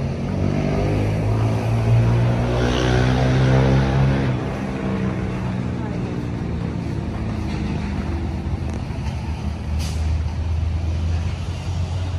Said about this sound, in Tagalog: pabalik-balik lang itong traktora na ito